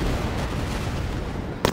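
Ship secondary guns firing in a naval battle video game, a dense rumbling barrage of muffled booms with a sharper crack near the end, loud and close.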